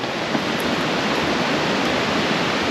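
Toats Creek in Loomis State Forest rushes past close by, a dense, steady hiss of flowing water filling the air without pause.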